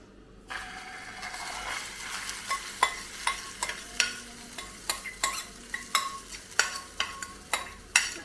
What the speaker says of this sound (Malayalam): നമ്മൾ ആ ഉണ്ടാക്കി വെച്ചിരുന്ന മുട്ടയുടെ കൂട്ട് ഇതിനകത്തേക്ക് ഒഴിച്ചു കൊടുക്കാം.